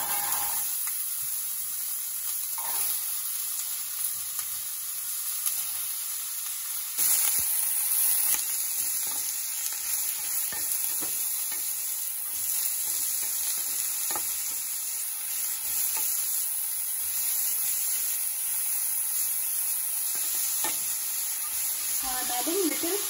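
Carrots added to a pan of mustard seeds sizzle steadily in hot oil, a continuous bright hiss with occasional stirring scrapes and spatters, close and even throughout without speech.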